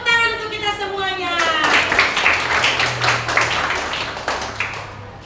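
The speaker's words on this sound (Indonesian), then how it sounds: "Tepuk tangan untuk kita semuanya." A class of schoolchildren claps together in a sixth-grade lesson, broad dense applause rising after a sung or spoken opening and continuing steadily, fairly close and loud.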